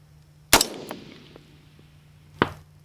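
Two sharp metallic clangs of rifle rounds striking a steel target 500 yards downrange at a youth shooting event, spaced about two seconds apart, each ringing briefly against an otherwise quiet background.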